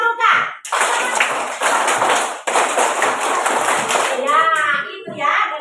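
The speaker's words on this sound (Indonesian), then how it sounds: "Coba tepuk pramuka." Children clap hands together in the Indonesian scout rhythm (tepuk pramuka), a loud close burst of patterned claps that pauses briefly and resumes, with a voice chiming in near the end.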